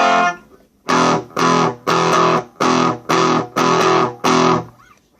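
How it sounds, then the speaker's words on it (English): Seven repeated chunky chords from an electric guitar through an overdrive pedal at full gain, each held briefly then cut, in an even rhythm, loud and close. "I'm going to turn it all the way up before I start turning the distortion in"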